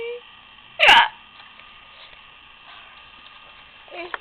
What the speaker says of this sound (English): And I have the hiccups.